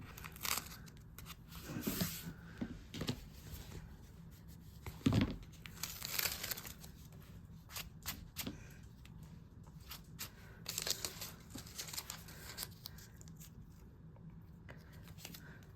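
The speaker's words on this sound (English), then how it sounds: "And I'm going to tape that down." Adhesive tape being pulled, applied and pressed down by hand while assembling a coin-operated bag, with close, quiet crinkling, tearing and rubbing sounds in irregular bursts and no talking.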